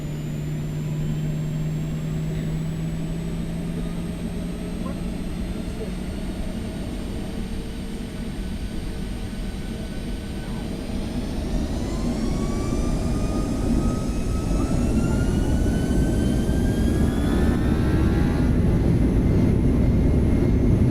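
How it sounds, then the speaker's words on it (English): Boeing 737-900ER jet engines spool up in the X-Plane 12 flight simulator, a steady loud roar with a whining tone that rises in pitch and swells gradually over twenty seconds, with no voices. "I'm gonna run the engines up just a little bit here."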